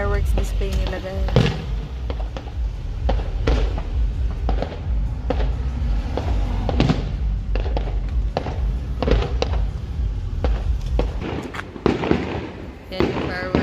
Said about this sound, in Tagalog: Yan yung fireworks display nila,